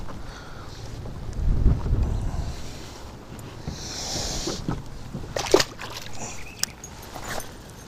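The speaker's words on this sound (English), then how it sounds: "Spring is here and the wind is blowing." Wind blows outdoors on a lake during a spring bass-fishing trip, rumbling and buffeting close to the microphone in uneven gusts. Faint water sloshing and a few sharp knocks from the boat come through underneath.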